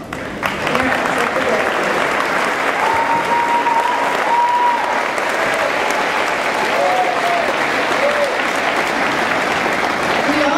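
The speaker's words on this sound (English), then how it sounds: "Give you a round of applause." A large crowd at a 2014 high school graduation ceremony in Grantsburg applauds the parents, loud sustained clapping that holds steady throughout with a few voices and cheers mixed in.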